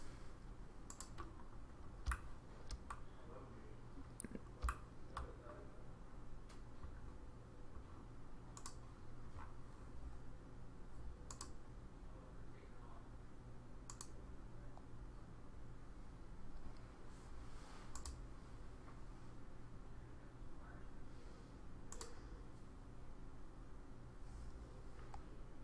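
Computer keyboard keys click in short, irregular bursts of typing during SketchUp work, faint and close against a quiet room hum, with no talking.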